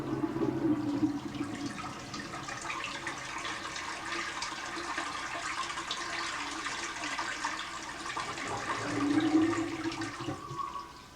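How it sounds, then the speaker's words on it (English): An old English toilet flushes in a hotel bathroom, a rushing, gurgling torrent of water that starts strongly, churns steadily, then surges again before fading near the end. "I'll have to let you hear this, the unbelievable toilet here."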